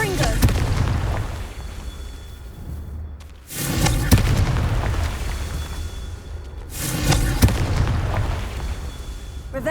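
Spell explosions from the Confringo fire spell in the Hogwarts Legacy video game, heavy booming blasts that hit twice with rumbling decay, loud and close over a dense game soundscape.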